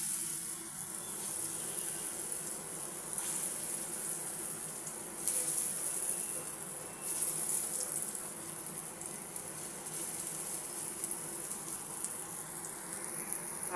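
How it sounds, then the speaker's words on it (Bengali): Lentil fritters fry in hot mustard oil, giving a soft, steady sizzle and faint crackle that continues evenly throughout, quiet and close, with no talking. "এবার বড়াটা ভেজে নেব"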